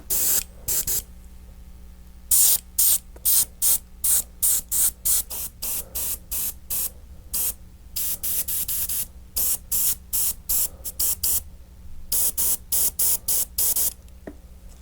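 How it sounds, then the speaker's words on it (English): Orange spray paint hisses from an aerosol can over pumpkin stencils in short repeated bursts, about two dozen sprays of varying length separated by brief pauses, close and clear with no talking. "spray a little bit of orange paint onto them"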